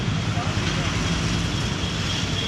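A Royal Enfield motorcycle engine runs on a test drive, a steady low rumble with broad wind and road noise that stays constant throughout.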